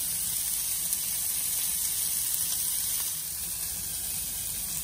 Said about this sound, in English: And then we fry this one also.